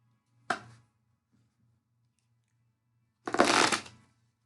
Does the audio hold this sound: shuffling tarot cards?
yes